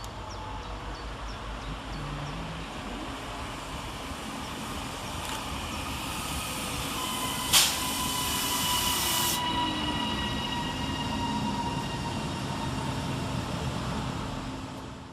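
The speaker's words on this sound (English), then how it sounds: "here comes our train in the form of 331102. Working the 1556 Northern service from Leeds to Doncaster." Northern class 331 electric unit 331102 rolls into Adwick railway station on a Leeds to Doncaster service, a steady loud rumble of wheels on rails with high squealing and a brief sharp screech midway.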